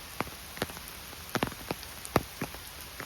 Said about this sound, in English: it's raining much heavier in that clearing than it is in the woods